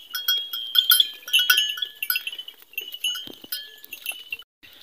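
Goats of mixed breeds bleat on a farm, with a cluster of close, overlapping calls and some quieter bleats between them.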